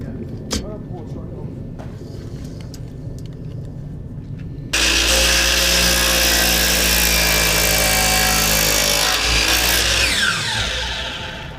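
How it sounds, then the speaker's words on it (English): A miter saw starts up abruptly and roars loudly through 4x4 lumber, cutting it into four-foot sections, the whine sustained for several seconds before it tapers off. Quieter background noise comes first, and the cut is close and dominant. "So I got to cut up a bunch of 4-foot sections of them on the miter saw."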